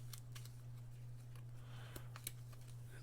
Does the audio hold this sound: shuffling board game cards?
yes